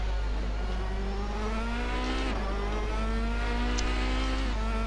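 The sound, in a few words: car braking before a corner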